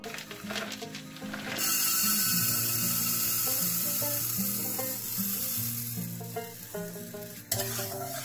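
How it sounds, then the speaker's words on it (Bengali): Mung dal dry-roasting in a pan for mung puli pitha, a loud continuous sizzle that swells after a brief quieter start, with stirring clinks and scrapes throughout and a sharp knock near the end. "মুগ ডালটা ভেজে নিচ্ছি।"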